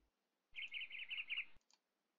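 A single short burst of bird chirping in a video game, a quick trilling tweet lasting about a second with a faint extra chirp after, otherwise quiet.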